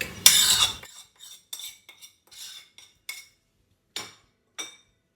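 Mutton marinating with ginger garlic paste, chili powder, salt, coriander, cumin and turmeric is mixed in a bowl, with a burst of rubbing followed by a series of sharp, separate utensil clinks against the dish, close and with no voices.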